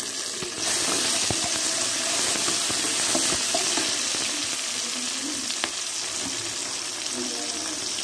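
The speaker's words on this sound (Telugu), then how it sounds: "ఈ విధంగా మగ్గిన తర్వాత టమాటా ముక్కలు కూడా వేసుకొని" Tomato pieces sizzle and fry steadily in a hot pan while cooking for semolina upma, a continuous crackling hiss with a few scattered pops and stirring clinks, close and unbroken throughout.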